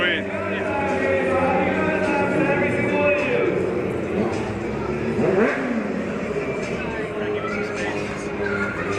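A stunt motorcycle fitted with a full Graves exhaust system revs hard at a Chicago stunt show, engine rising and falling loudly under crowd noise and people talking.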